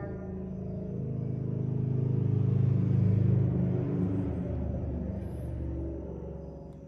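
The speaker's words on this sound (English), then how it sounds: "Besides that loud ass car?" A loud car passes outside, its low engine rumble swelling to a peak midway and then fading away.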